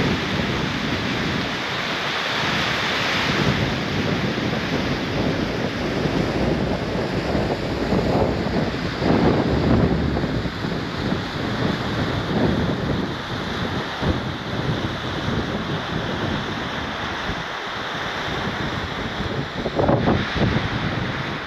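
Steady broadband rush of a river flowing through a canyon, with gusting wind buffeting the microphone; continuous and fairly loud throughout, no voices.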